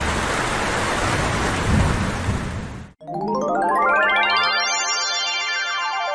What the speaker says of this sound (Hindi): अरे, पानी तो बरसने लग गया।